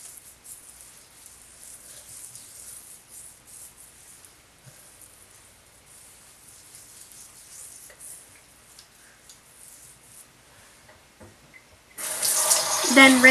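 Tap water runs at a sink while scrub is rinsed off a face: faint, low splashing and trickling for most of the stretch, then a loud, close rush of flowing water near the end.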